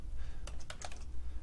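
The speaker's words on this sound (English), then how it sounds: "If I type in software" A quick burst of keystrokes on a computer keyboard, several close, light clicks in fast succession, heard alone over a low background hum.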